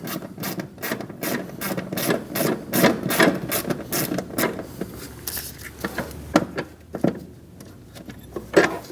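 Socket wrench loosening a bolt on the AC liquid line of a Chevrolet Express 2500 4.8L V8, a close series of rapid ratcheting clicks and metallic clacks in bursts, with no talk.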